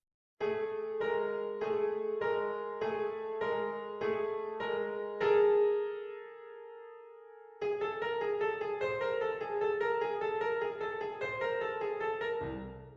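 Piano chords struck repeatedly in a steady rhythm, dense and clashing, then a sustained tone and a busy, cluttered cluster of notes.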